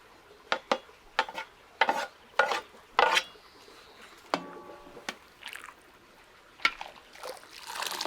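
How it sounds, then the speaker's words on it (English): Pork fat tipped into a hot cauldron, with sharp irregular splashes, clatters and stirring bursts over a faint sizzle, fairly close and quiet between the hits. "The fat goes into a hot cauldron to cook."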